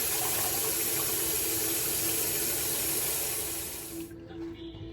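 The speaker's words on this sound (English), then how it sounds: "we're gonna add more water" Tap water runs steadily into a pot of soup being cooked for a family meal, a loud continuous splashing rush that cuts off near the end, leaving quieter kitchen background.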